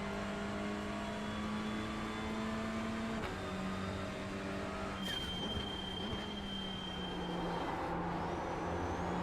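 A TCR race car in iRacing revs with a sustained engine tone that drops at gear shifts, then climbs again, with a high whine, steady and alone.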